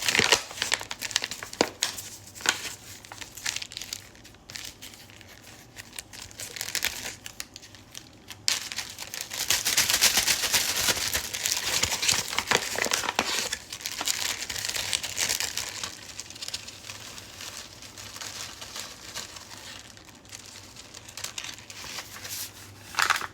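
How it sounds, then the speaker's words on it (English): Flour is shaken inside a plastic sandwich bag close by, making continuous crinkling and rustling plastic sounds with bursts of louder shaking and scrunching. "I'm gonna put a little bit of flour in the sandwich bag"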